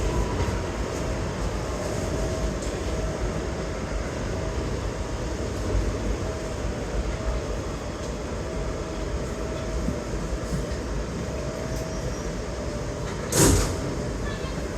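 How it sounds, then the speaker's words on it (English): A Queens-bound New York subway G train stands at Nassau Avenue station with a steady hum and rumble of the car, and a short loud clank near the end that could be a door. "This is a Queens-bound G train."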